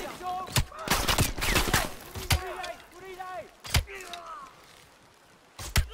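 Gunfire in the Call of Duty Cold War campaign comes as a cluster of sharp shots and short bursts, fairly quiet and set among game effects and a voice.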